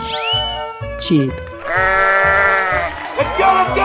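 Sheep bleat in a 3D animal sliding video game, a short quavering call followed by a longer, wavering bleat, loud and close over a pulsing game soundtrack with scattered effect sounds.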